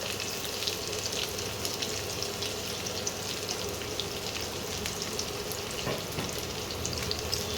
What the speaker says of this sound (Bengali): তেলের মধ্যে পেঁয়াজ কুচি দিয়ে দিলাম।